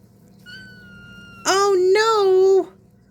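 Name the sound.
cats meowing, wanting to come out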